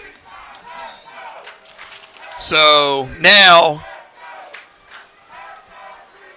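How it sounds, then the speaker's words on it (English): A Creekside crowd at a high school football game against St. Peter's Prep hoots and hollers in two loud bursts of sustained cheering, with a commentator talking faintly before and after. "you can hear the Creekside crowd potentially. They're hooping and hollering now"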